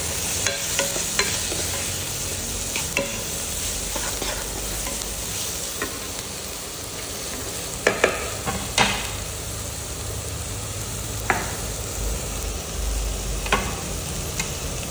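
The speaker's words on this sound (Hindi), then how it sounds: "सो हांव तें 1/2 स्पून जिंजर गार्लीक पेस्ट घालता तितून आनी मातशें फ्राय करून घेता" Half a spoon of ginger-garlic paste fries in a pan, a steady sizzle running throughout with scattered sharp spoon taps and scrapes against the pan, with a cluster of knocks midway.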